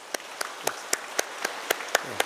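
A church congregation at a Sunday worship service claps in unison, about ten sharp, evenly spaced claps over two seconds with no speech.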